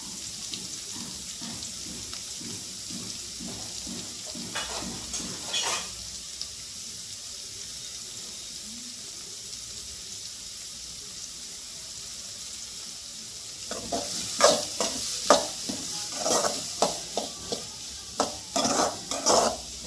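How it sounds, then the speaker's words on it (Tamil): Onions sautéing in a pan for a village-style koduva fish thokku, with bursts of stirring and scraping against a soft, steady sizzle and a quieter stretch in the middle. No one speaks. "இதெல்லாம் ஆட் பண்ணிவிட்டு இப்போ நல்லா நம்ம இதை வதக்க போகிறோம்."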